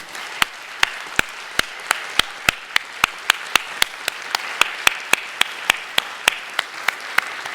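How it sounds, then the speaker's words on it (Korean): A church congregation at a Friday worship service claps together in a steady, evenly spaced rhythm, each sharp clap distinct and moderately loud, with no talk over it. "감사의 박수, 영광의 박수 올려드려볼래요?"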